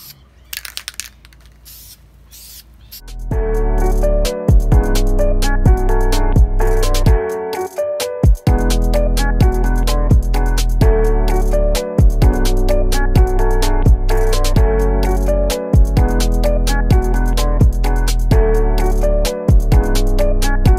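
An aerosol can sprays paint onto a masked-off rocker cover in repeated short, close hissing bursts separated by quick pauses, starting after a few seconds of quiet handling.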